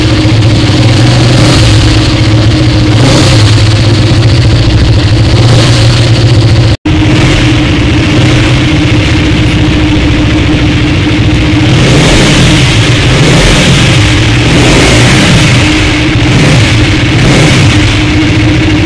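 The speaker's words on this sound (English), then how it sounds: "And this is the exhaust sound." Exhaust of a 2017 KTM RC 200 motorcycle, recorded close and loud on a phone, with a steady rumbling idle and occasional rising blips of revving, no talking.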